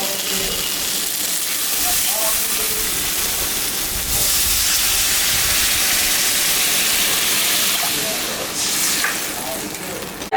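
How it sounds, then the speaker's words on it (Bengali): A little water poured onto frying spices in a pan erupts into a loud, close, hissing sizzle with bursts of steam, surging again midway and settling into a sustained roar. "ভাজা হয়ে গেছে, এখন আমি সামান্য একটু জল দিব"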